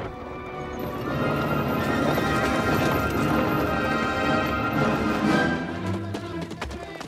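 Many cavalry horses of the Australian Light Horse galloping hard, hooves drumming in a dense, continuous rush with loud neighs and whinnies breaking through.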